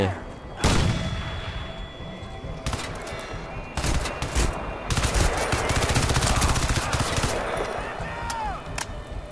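Rapid bursts of gunfire from the first-person shooter Crysis 2, loud and dense, with automatic volleys arriving in waves and a few brief pauses, all mixed into the game's soundtrack and effects.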